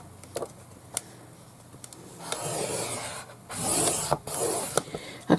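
Paper being scored with a tool for a craft journal, short scratchy rasping strokes at irregular intervals, with longer rubbing passes and a few sharp taps, close and with no talk.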